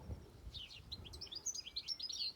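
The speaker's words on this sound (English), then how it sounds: "except for the birds" Several birds chirp and tweet over quiet countryside fields: short bright calls tumbling one after another, fairly faint and a little distant, over a soft low background hush with no talking.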